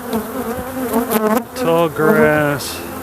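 Honeybees swarm and buzz loudly around a resource frame lifted from a hive and set down in tall grass, a dense steady drone with shifting pitched tones rising and falling for about three seconds.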